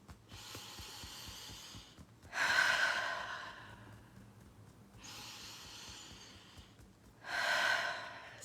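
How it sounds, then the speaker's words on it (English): Slow, deep breaths during a breathing exercise: two long airy inhales and exhales, each followed by a louder, sharper breath through the nose, close and unhurried, alone without speech. "So let's just do some breathing and tapping first."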